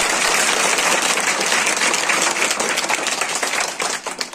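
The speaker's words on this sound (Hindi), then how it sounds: "और एक बार ये सभी बच्चे अपने गुरुजनों के लिए जोर से तालियां बजाएंगे" Children at a magic show clap loudly for their teachers, a dense, continuous round of applause from a crowd that stays strong for about four seconds before thinning slightly at the end.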